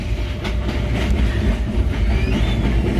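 A train heading into Howrah station near Liluah rumbles along the tracks with a steady loud roar, wheels clattering rhythmically and a faint metallic squeal near the end.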